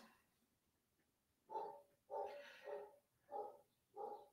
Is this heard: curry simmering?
no